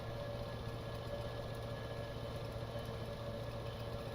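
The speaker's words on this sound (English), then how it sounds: "the engine sounds are a little high" Car engine hum from a racing video game, a steady mid-low drone with a constant whine above it, held evenly throughout at moderate level with no talk.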